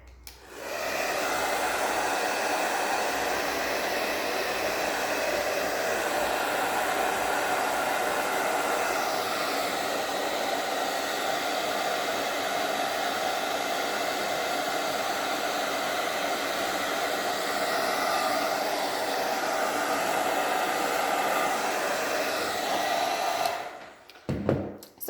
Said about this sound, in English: I'm going to take my blow dryer for a quick second.